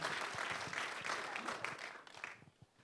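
Audience applause at a film festival screening and interview, a steady wash of many hands clapping that fills the room, then thins and trails off into scattered claps near the end.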